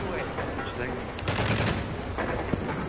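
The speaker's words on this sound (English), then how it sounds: "Stop firing your gun." Rapid automatic gunfire from the Modern Warfare 3 video game rattles in dense, sustained bursts, loud and close, with no one talking over it.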